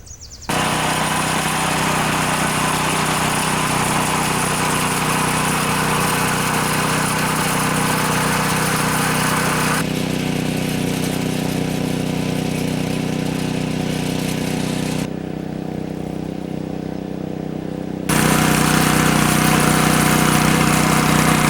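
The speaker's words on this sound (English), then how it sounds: "The little tiller is working good, but man, is there a lot left to do." Small garden tiller engine running steadily while churning soil for a giant pumpkin patch, a loud continuous mid-pitched drone with slight shifts in load and a brief dip before revving louder near the end.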